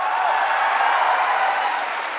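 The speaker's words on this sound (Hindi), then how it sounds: "जोरदार तालियां हो जाए इनके लिए।" An audience at a Delhi success-day event breaks into loud, sustained applause, a dense uniform roar of clapping from many hands.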